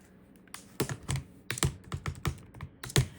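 Keys on a computer keyboard are tapped in a quick irregular burst of crisp, close clicks, a dozen or so sharp strikes with short pauses, heard alone in a quiet room.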